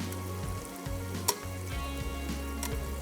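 Turmeric and whole garam masala fry in hot oil with a continuous close sizzle, marked by a couple of sharp clicks from a utensil and a low hum under it. No one speaks.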